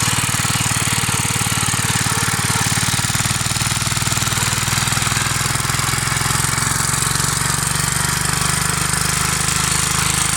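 A Bernard W249 small stationary engine runs steadily and loud up close, its rapid hammering rhythm easing slightly as the loose throttle lets it slow down, with no voices.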